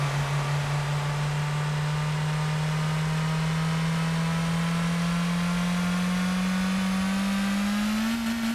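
Modded car with upgraded pistons and boosted horsepower accelerating in a video game, its engine a steady, loud drone that rises slowly in pitch as speed builds, alone without talk.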